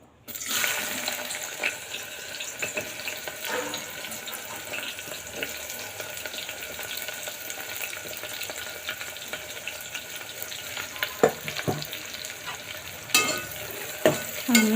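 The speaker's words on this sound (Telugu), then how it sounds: "అదైతే ఆయిల్ కాగిపోయిందండి ఆనియన్స్ అయితే వేసేద్దాం" Sliced onions frying in hot oil for gongura mutton, a continuous hiss and crackle with intermittent stirring clicks and scrapes, growing livelier toward the end, with no talking.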